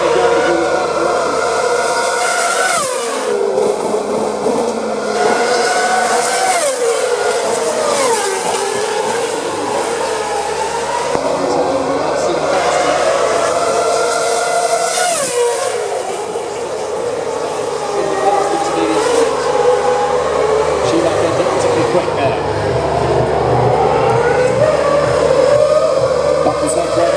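Formula 1 cars on track during Singapore Grand Prix qualifying with super soft tyres, loud continuous engine whine rising and falling with repeated pitch sweeps, under steady commentary voices throughout.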